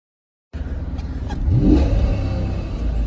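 A car engine, freshly fitted with a new water pump and thermostat, revs up from idle with a rising pitch, then settles into a steady run, loud and close, with no voices.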